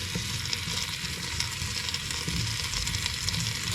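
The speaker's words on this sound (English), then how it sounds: "while those potatoes are browning" Potatoes and shallots browning in a pan, cooked in a motorhome, give a steady, loud, close sizzle and crackle of frying that holds evenly throughout, with no voices.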